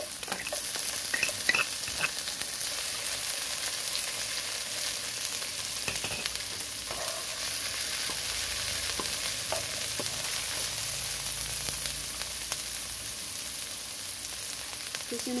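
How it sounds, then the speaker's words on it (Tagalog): Garlic and onion fry in hot oil with a loud, steady sizzle, with occasional stirring scrapes and no talking. "Mainit na yung mantika, lalagyan natin ng bawang. Sunod, ang sibuyas."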